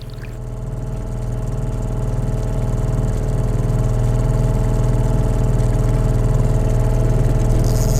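An outboard motor drones steadily and loudly on a fishing boat trolling for pike, growing slightly louder at first, with a low rumble and no talking.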